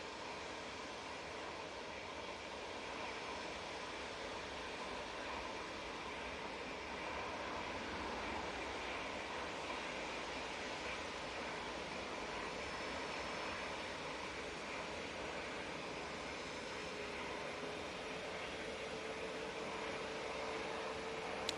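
A Ryanair jet departs Manchester Airport for Warsaw, its engines a distant, even broadband roar that stays faint and steady for about twenty seconds with no talk.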